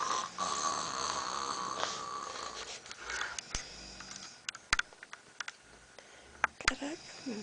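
A person snoring heavily while asleep in the early morning, with rough, breathy snores repeating under a steady background hiss, followed by sharper clicks and snorts near the end.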